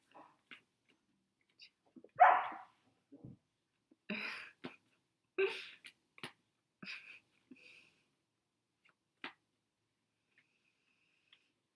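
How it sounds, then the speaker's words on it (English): Two dogs on an indoor play date make scattered short yips, a louder whine-like bark and soft scuffles and clicks, spaced irregularly against near silence. "that's my dog, and, we have her friend over, so they're having a little doggy play date right now"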